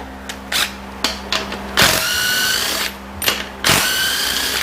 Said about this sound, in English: Remove the band anchor bolts. Band anchor bolts, both of them.